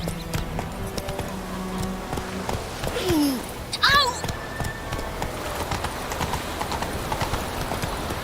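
Horse hooves clip-clop at a steady trot in The Witcher 3, with a high whinny partway through and a voice speaking over the rhythmic footfalls.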